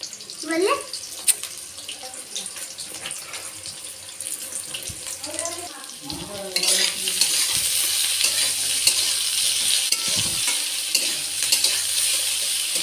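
Cut eggplant pieces go into a hot pan of oil: a few clanks and scrapes at first, then a loud, steady, hissing sizzle that fills the rest of the clip, with no talking.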